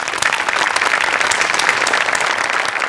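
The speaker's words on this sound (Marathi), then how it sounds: "धनंजय, तुझ्याकरता एकदा टाळ्या" Audience applause at a live Marathi comedy show, steady dense clapping from a crowd, loud and sustained throughout without a break.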